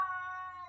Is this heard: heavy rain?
no